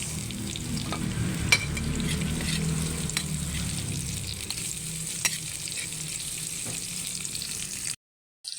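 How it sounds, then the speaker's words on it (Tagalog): Chopped garlic and onion sautéing in a pan for a Filipino mung bean dish: a steady, close sizzle with a few sharp utensil clicks, cutting off into brief silence near the end. "Ito, igigisa ko tong bawang."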